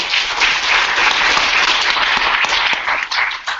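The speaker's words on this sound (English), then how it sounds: "I don't know whether you can hear the applause." Sustained audience applause at the close of a talk on altmetrics, a dense, steady wash of many hands clapping throughout with no voices over it.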